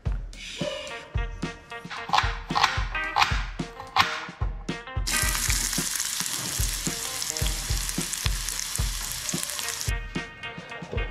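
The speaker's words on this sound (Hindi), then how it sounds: "अभी मैंने जस्ट फ्राई करनी है सब्जी देसी घी में" Vegetables frying in desi ghee, a loud close sizzle with repeated clanking stirs and pan knocks, rising to a steady, dense hiss partway through, with no voices.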